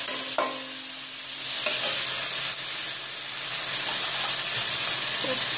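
Diced potatoes frying in a pan with chilli powder, turmeric and cumin-coriander powder, a loud steady hiss and sizzle with a few scraping stirs, close up and without talk.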